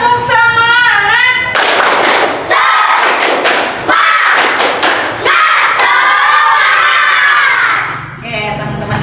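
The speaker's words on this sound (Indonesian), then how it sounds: "Kita tepuk semangat dulu, oke? Tepuk semangat." A class of students performs a rhythmic clapping chant together, with loud unison shouting, sharp clap bursts and thuds close by, crowd voices rising and falling in a cheer-like rhythm.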